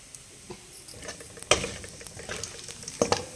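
Mustard seeds splutter in hot oil over a low flame, with cumin and dried red chillies, while tempering a radish and drumstick sambar: scattered small pops and crackles, with a couple of sharper, louder bursts over a faint background sizzle.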